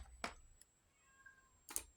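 A pet cat gives a faint, short meow in a quiet room, set between two sharp clicks.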